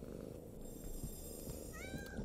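A cat purrs in a Harry Potter video game, a steady low rumbling purr under a background music drone with a few rising chime tones near the end.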